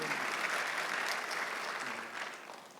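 Church congregation applauding during a Sunday worship service, a steady wash of many hands clapping close by that tapers slightly at the end.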